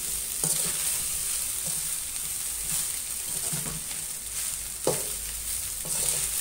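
Chicken fried rice frying in a pan, stirred with a utensil: a constant close sizzle, with scraping clanks of the spatula every second or so.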